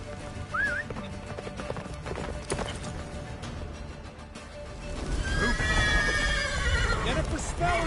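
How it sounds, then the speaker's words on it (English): A horse gallops with clip-clop hoofbeats and a whinny in The Witcher 3 video game, fairly loud under game dialogue and music, intensifying in the second half as the ride grows frantic. "Faster, Roach. Don't stop"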